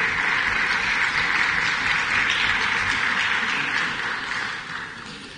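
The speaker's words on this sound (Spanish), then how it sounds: "yo pido aquí un aplauso, no a mí, sino a estas tres damas" Sustained applause from an audience at an Ecuadorian official session, a dense steady wash of clapping that holds loud for several seconds before tapering slightly toward the end.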